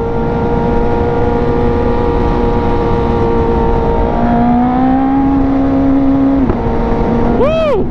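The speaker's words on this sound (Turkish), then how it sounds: "Egzoz bir patlatıyor." A Suzuki GSX-R1000 sport motorcycle drones loudly on the open road, its engine pitch stepping through gear shifts, with brief exhaust pops at the changes near the end.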